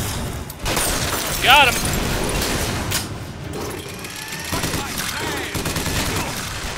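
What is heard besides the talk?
gunfire in the video game Bioshock Infinite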